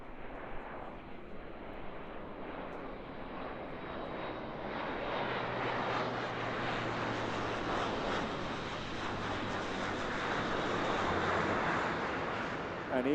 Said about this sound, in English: coming in 250 feet at 180 knots from Royal Air Force Brize Norton, the 70 Squadron Airbus A400M Atlas